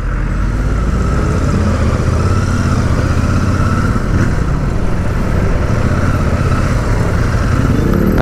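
Royal Enfield Super Meteor 650 motorcycle riding in city traffic, with a loud, steady engine drone and wind rumble that continues without a break.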